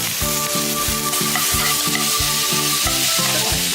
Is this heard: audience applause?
no